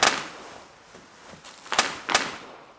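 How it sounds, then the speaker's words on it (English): Bubble wrap popping in a few sharp, scattered snaps, with two louder pops near the end against a quiet background. "Hold your fire! It's the noise of the bubble wrap."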